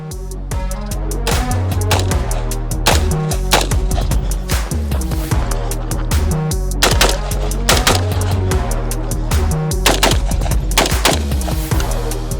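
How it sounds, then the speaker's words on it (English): Rapid rifle gunfire from 62 grain Armscor reloads fired at targets on a range: loud, close shots in quick strings with short pauses between bursts, each crack trailing a brief echo. "Now we're going to run my 62 grain arms core reloads."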